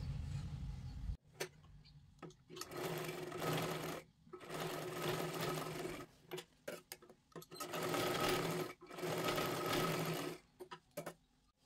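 A sewing machine stitches tucks into a size 42 katori blouse, running in several loud close bursts of rapid mechanical whirring separated by short pauses and clicks.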